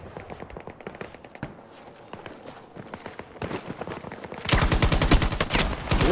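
Rapid bursts of gunfire from an LCMG in the shooter game Battlefield 2042, starting as scattered shots and steadying into a loud, sustained automatic stream near the end; no talking over it.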